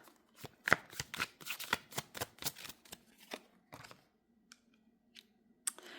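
A tarot deck shuffled in a quick run of crisp riffling card snaps, then a few sparse soft taps as cards are drawn and laid down, close and quiet.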